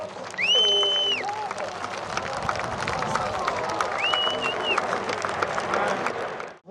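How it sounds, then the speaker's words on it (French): An outdoor crowd applauds the Patrouille de France, a steady wash of clapping and cheering broken by whistles, with faint chatter underneath. "Vous pouvez les applaudir."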